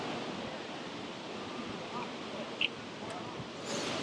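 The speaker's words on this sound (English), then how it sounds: "Too windy." Steady wind rushing and buffeting against the microphone outdoors on a London street, a constant broad roar with a brief faint knock partway through.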